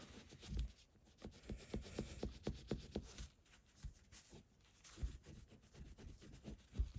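A cloth rubbed over a WW1 trio medal in quick, soft, scratchy strokes, close and fairly quiet, with uneven bursts of friction and no talking.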